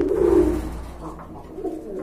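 Low, throaty coos from a female pigeon, one longer burst followed by softer repeated cooing, close by with no talking.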